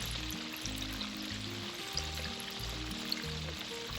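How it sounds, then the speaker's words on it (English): Chicken nuggets fry in peanut oil at about 350 degrees, giving a steady hiss and crackle of sizzling that stays even throughout, with no talking over it. "I do like frying with peanut oil."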